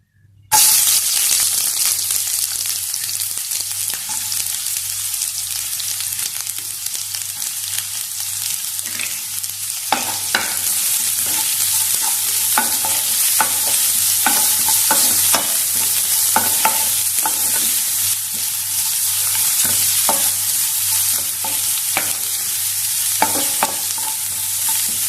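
Chopped onion sizzles in hot oil right after mustard seeds have popped, for a Kerala payar mezhukkupuratti green bean stir-fry; a steady close frying hiss runs throughout, broken by repeated scraping stir strokes, with no talking.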